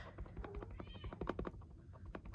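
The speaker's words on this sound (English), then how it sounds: "my cat is whining over here" A pet cat whines and meows indoors in a quiet room, giving a quick string of soft, faint, plaintive calls.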